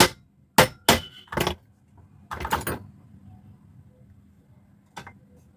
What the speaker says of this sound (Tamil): லேசாக பஞ்சிங் பண்ணிக்கலாம்.